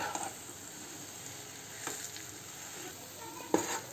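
Potatoes being stirred in a frying pan of spiced mixture for batata vada filling, a soft continuous sizzle with a few spatula scrapes and one sharp clink near the end.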